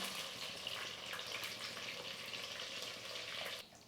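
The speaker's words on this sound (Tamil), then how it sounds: "கத்திரிக்காய் வந்து எண்ணெயில் வந்து ஒரு ரெண்டு மூணு நிமிஷம் வந்து நல்லா வதங்கட்டும்" Eggplant pieces sautéing in oil for a Tamil oil-brinjal curry give off a steady, close crackling sizzle with no talk, cutting off abruptly just before the end.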